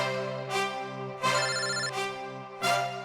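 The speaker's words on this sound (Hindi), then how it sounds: "यहाँ पे किसका फोन बज रहा है?" A phone ringtone plays a repeating electronic melody in short bursts, moderately loud, with no voices over it.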